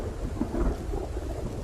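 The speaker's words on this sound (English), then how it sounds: "That thunder is just booming." A thunderstorm in the survival video game Project Zomboid, with steady heavy rain and a deep, rolling thunder rumble that fills the whole stretch, dense and continuous, with no voices.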